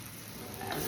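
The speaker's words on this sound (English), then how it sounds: "Now just stir this all together and cook it for another couple of minutes" Mongolian beef thickened with a little cornstarch sizzles in a hot pan as it is stirred, a brief, close, steady frying hiss with a faint scrape near the end.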